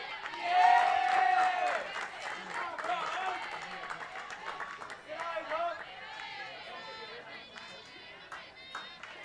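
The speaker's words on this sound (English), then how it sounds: "This crowd is loud here at the ballpark." Spectators at a junior college softball tournament game cheer and chatter, with a sharp whistle-like shout early on, then lively crowd noise that rises and falls under voices.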